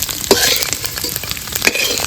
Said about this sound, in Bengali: আর ডিমগুলো ভাজা হয়ে গেছে